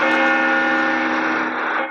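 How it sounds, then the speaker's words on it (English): A loud, rich bell tone rings steadily, its layered harmonics sustaining and slowly fading, with no voices. "Church bells"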